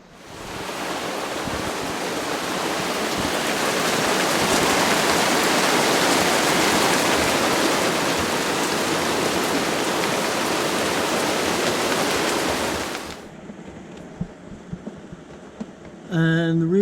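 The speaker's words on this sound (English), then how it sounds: "Thunder and lightning storms, strong winds, and rain for an entire week" Heavy storm rain pours down in a dense, steady roar for about thirteen seconds on a sailing boat in Greece, then cuts off abruptly, leaving faint ambient noise.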